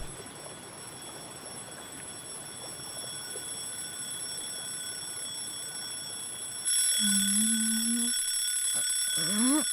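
Ringing of an anime alarm clock, a steady high electronic ring that grows louder partway through, with a brief rising tone near the end.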